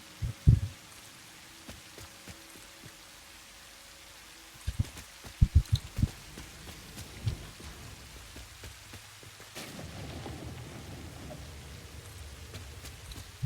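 Soft, steady rain patters throughout in a video game, with scattered louder taps and clicks early on and a denser wash of rainfall toward the end.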